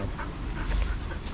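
Gamble, a dog, gives a soft, brief whimper that is faint and close, with no talking over it.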